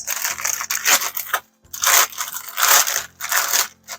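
Saltine crackers are pressed into a sprayed, foil-lined pan in several bursts of crinkling and crunching, close and fairly loud, separated by short pauses.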